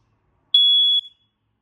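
One piercing, high-pitched smoke alarm beep sounds during a test. It is a single steady tone of about half a second, with a brief trailing chirp in an otherwise silent room.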